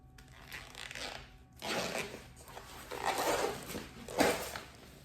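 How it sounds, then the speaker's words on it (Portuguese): Zipper pulled open on a sewn thermal bag during bag-making, a few scratchy bursts of sliding teeth at close range, separated by short pauses and handling rustle, with no talking. "eu vou abrir o meu zíper"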